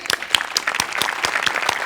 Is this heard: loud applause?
yes